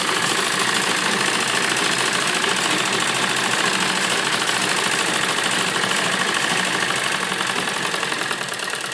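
A sewing machine runs continuously as it stitches the seam of a fabric frock, giving a loud, fast, even whirr with a rapid mechanical pulse that never stops.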